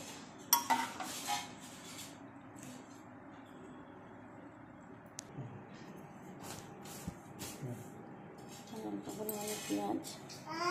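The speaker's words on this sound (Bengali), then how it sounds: "আমি এটা বাটির মধ্যে তুলে নিয়ে দেখাচ্ছি কত সুন্দর হয়েছে" Freshly made ghugni, a spiced pea curry, being spooned from a pot into a bowl: scattered soft clinks and scrapes of utensils and dishware, quiet and intermittent, with a voice talking in the background.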